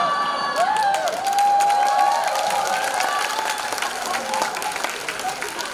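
Audience of a few hundred at a business presentation hall applauds steadily, with cheers and whistles rising over sustained clapping that stays loud throughout.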